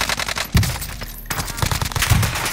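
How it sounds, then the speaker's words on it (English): Warzone firefight with loud, rapid automatic rifle fire in repeated bursts, close and dense, with a brief lull in the middle before the shooting resumes. "Oh my god, yeah, they are shooting down there."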